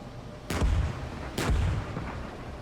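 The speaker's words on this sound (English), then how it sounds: "But I'm confident our artillery will not fail us." Two heavy artillery shots in a tank combat video game, each a sharp broadband crack followed by a low rumbling tail, spaced about a second apart, close and loud with no talk.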